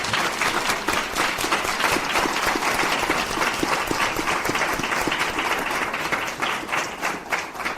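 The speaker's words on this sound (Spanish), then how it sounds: "Un aplauso, por favor" An audience applauds at the close of an interview at a school forum, a steady dense wash of clapping held at even loudness throughout with no speech over it.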